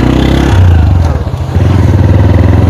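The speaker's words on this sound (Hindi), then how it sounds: "ये इसका इंजन" A 1999 Bajaj Kawasaki Boxer two-wheeler's engine runs close and loud, a rhythmic pulsing chug with mechanical clatter that briefly shifts pitch midway, heard alone without talk.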